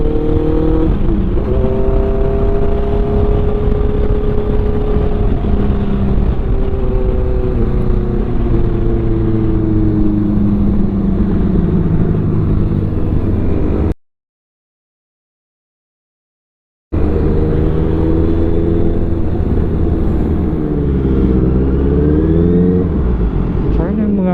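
A Honda CBR650R sport motorcycle with a titanium exhaust revs hard through a smooth, deep exhaust, rising and falling in pitch, with a brief silent gap before revving again.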